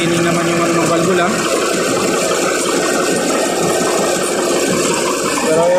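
A Caterpillar engine runs after a broken valve was repaired, giving a steady, loud, close mechanical rattle and hum while someone talks over it.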